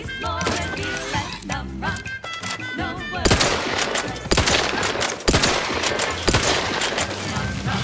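Gunfire in the video game Outer Worlds 2, with rapid shots and sharp bursts that come thicker and louder in the second half, set against game music and voices talking over the action.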